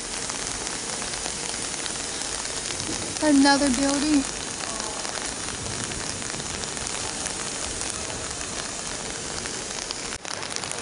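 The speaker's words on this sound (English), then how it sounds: "Still out here in these streets with the rain." Steady rain hisses broadly across a Munich street, continuous and close, with someone briefly speaking over it partway through.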